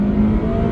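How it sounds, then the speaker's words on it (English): Honda Civic Type R EP3 with a naturally aspirated 2-litre VTEC engine and six-speed manual, revving loud and close in a brief, steady high-pitched burst. "So this has got that infamous VTEC engine"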